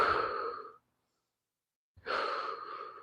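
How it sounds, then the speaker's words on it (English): Two deep breaths during a workout stretch, each a long, close, breathy exhale or sigh separated by a short silence, with no talking. "Just a couple deep breaths."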